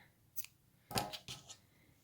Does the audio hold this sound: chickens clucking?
no